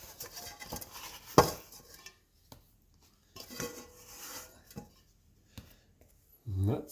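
Scattered scrapes and clinks sound as leftover bread dough bits are scraped out of a mixing bowl, coming in short, irregular bursts with quiet gaps between them.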